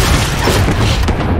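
A loud, continuous rumbling boom from an RPG rocket explosion in Call of Duty Warzone, a battle royale shooter, filling the whole moment with dense low-end roar.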